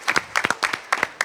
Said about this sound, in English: So, up front, we'll give you some applause up front.